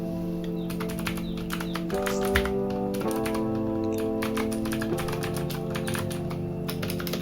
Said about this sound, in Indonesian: Untuk suara klik dari tombolnya seperti ini.